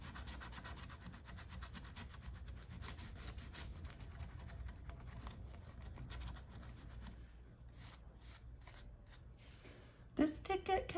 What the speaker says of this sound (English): What are you scratching today? I hope you have your ticket out.